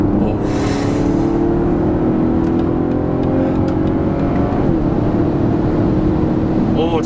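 A BMW M440i convertible accelerates hard in Sport Plus mode, its engine a loud continuous drone with tones that rise and shift, heard from inside the cabin over steady road and wind noise.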